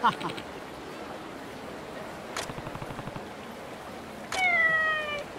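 In the Yakuza Ishin video game, a cat gives a short meow near the end, heard over game sounds, a burst of rapid gunfire-like clatter and someone talking.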